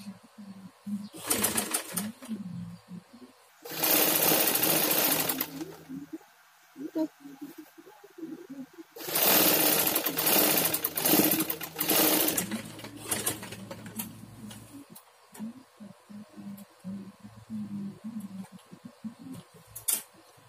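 Sewing machine stitching a kebaya sleeve, running in two long loud bursts separated by quieter pauses with faint handling and talk in between.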